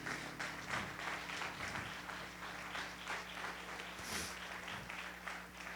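Church congregation applauding together during a worship service, a steady dense wash of clapping with no speech, holding an even level throughout.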